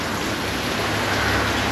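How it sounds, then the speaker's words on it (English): Heavy rain and gusting wind roar as a cyclone arrives in the Pilbara near Dampier, Western Australia, a dense, loud, unbroken wash of noise with no voices. "Definitely started to intensify, a lot more wind, a lot more rain"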